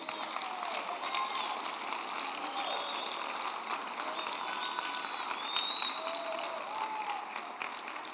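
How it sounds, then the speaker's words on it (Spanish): Church congregation applauds during a sermon, a fairly faint, steady patter of clapping from a large room that runs unbroken for the whole stretch. "De un aplauso al Señor."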